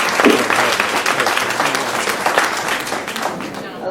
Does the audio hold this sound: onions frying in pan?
no